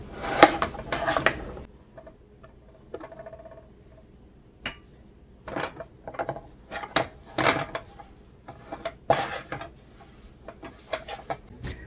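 A spoon or utensil working flour into a moist Tudor short cake dough in a bowl: irregular clinks and scrapes against the bowl, some bursts louder than others, with no talking.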